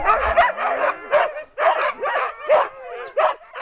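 Sled dogs bark, yip and whimper in an excited burst of repeated barks, several overlapping close by with uneven rhythm and loud peaks, a brief howl-like whine among them.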